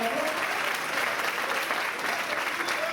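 Sustained applause from a large church congregation at a night service, dense and steady clapping filling the whole stretch without pause.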